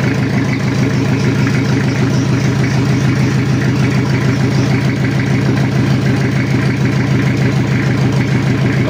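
A cold Toyota Kijang diesel engine idles with its oil still cold, on a block that has a cracked casting and a welded-over oil passage; a loud, even, close diesel clatter holds steady throughout.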